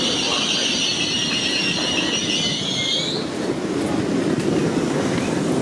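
An LNER Azuma train at Peterborough station gives a loud, steady high-pitched wheel squeal for about three seconds, then a continuous low rumble of rolling carriages, with no voices.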